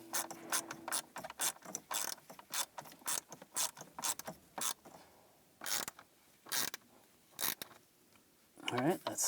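Hand ratchet tightening screws while fitting a heater core in a 2010-2017 Chevrolet Equinox, a rapid series of sharp clicking bursts close by with short pauses between strokes, no talk over it.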